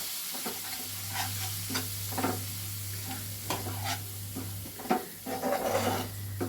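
Egg paneer masala sautés in a pan with water from ground coriander leaves, giving a soft, fairly quiet sizzle with intermittent stirring scrapes over a low steady hum.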